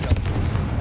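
A single booming blast from the Confringo fire spell in Hogwarts Legacy, a brief explosive thud set in continuous low rumble.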